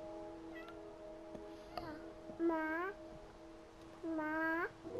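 A cat meows twice indoors, each meow drawn out and rising then falling, close and clear, with faint babbling and a few soft sounds in between.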